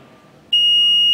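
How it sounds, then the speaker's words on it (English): A door access control alarm buzzes after the door is held open too long, a single steady high-pitched electronic tone that starts abruptly partway through and holds loud and continuous to the end. "As you see over here, the system will start buzzing,"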